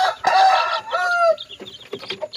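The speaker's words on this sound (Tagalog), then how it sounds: "Ito nga yung ating mga sisiw." One-week-old chicks give a burst of close, shrill, overlapping peeps and chirps, loud at first and then breaking into shorter scattered calls, with no talk.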